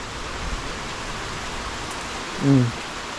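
Heavy rain falls as a steady, even wash of hiss, with a brief low murmur rising near the end.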